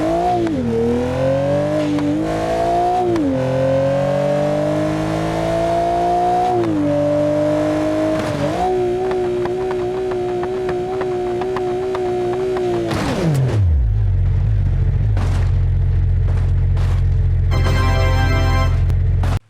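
Porsche sports car engine in a video game, revving steadily with rising and falling pitch shifts, then dropping to a deep, loud low drone, with no talk.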